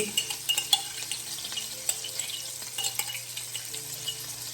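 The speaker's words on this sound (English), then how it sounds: "I am just going to keep flipping the meatballs and getting them browned on all the sides" Meatballs browning in a pan, a steady low sizzle of frying with scattered light clinks and taps of a utensil turning them.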